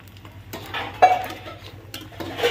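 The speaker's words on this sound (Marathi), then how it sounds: "आता ही मोठी इलायची आहे त्याचं फक्त जे वरचं कवर असतं ते भाजून घ्यायचंय" Black cardamom pods dry-roasting and stirred in a pan while making homemade spice masala, with soft scraping and light clinks from the stirring utensil in a few short bursts, fairly quiet.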